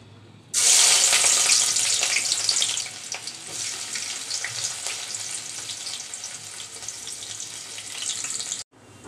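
Chopped onion dropped into hot oil in a cooking pot, bursting into a loud, bright sizzle that settles into a steady frying hiss for several seconds before cutting off abruptly.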